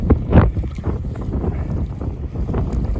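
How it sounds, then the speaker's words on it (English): Strong wind gusts on a beach during a super low tide after a storm, buffeting the microphone in a loud, constant roar with surging low rumbles. "It's absolutely lunacy out here with the wind."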